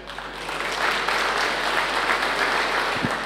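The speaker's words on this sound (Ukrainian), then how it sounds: "і наші аплодисменти" Audience applause at a concert honouring sports stars, a close, steady burst of many hands clapping that continues unbroken throughout.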